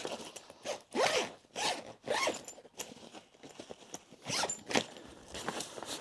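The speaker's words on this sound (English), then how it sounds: "I've spotted another zip up the top here" Zipper on a travel backpack rucksack being opened and closed, several quick rasping zip pulls in bursts, close and fairly loud, with pauses between strokes and no talking.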